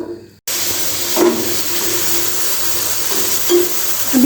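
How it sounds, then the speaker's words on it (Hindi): Chicken fries in oil in a pan on the stove for chicken tikka rolls. After a brief silence, a loud, steady sizzling hiss sets in and continues unbroken. "चिकन को फ्राई करने के लिए हमने पैन को रख दिया चूल्हे पे"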